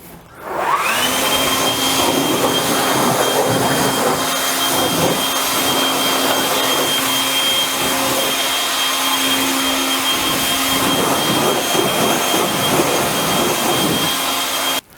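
A battery-powered leaf blower runs continuously at full power for the whole stretch, loud and close, with a steady high whine and rushing air as it blows out the corners of a garage.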